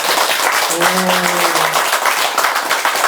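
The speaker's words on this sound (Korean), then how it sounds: "여러분 자신을 위해서 박수 받으셔야 됩니다." Applause from Buddhist university students at Gwanryongsa temple in Changnyeong, a dense steady clatter of clapping with a brief voice sounding under it midway.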